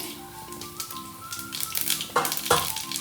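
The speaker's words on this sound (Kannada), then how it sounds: "ಇವಾಗ ಎಣ್ಣೆ ಕಾದಿದೆ, ಸ್ವಲ್ಪ ಸಾಸಿವೆ ಹಾಕೋತೀನಿ" Mustard seeds and cumin dropped into hot oil, a soft sizzling crackle that builds with scattered popping and a couple of sharper bursts near the end, no talking.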